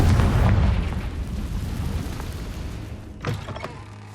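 A deep booming blast from the Confringo explosion spell in Hogwarts Legacy, loud at first and rumbling away, with a smaller pop near the end.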